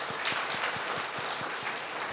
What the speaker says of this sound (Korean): 우리 박수 한번 드립시다.